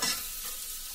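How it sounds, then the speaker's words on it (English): Onions coated in spices frying in a pan for vegetable biryani, a brief steady hiss of sizzling oil, close and fairly quiet. "Ensure that the onions are thoroughly covered with the spices. Allow these to fry for 5 minutes."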